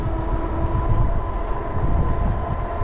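Sprinter trains at a rail yard give off a steady low rumble with a sustained electric hum, close and continuous, with no voices.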